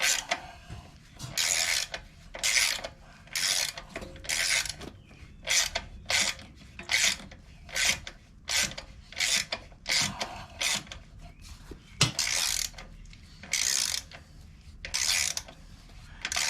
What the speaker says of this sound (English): And then tighten up here, and then tighten your remaining bolts.